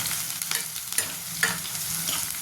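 Onion roasts in a pan for a spicy brinjal, potato and tomato curry, giving a close, continuous frying hiss broken by scraping stirs and small clatters.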